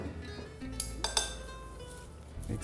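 Arugula tossed with truffle oil, salt and cracked pepper in a bowl, giving soft clinks and scrapes of utensils against dishware, a few sharper taps close by, with no talking.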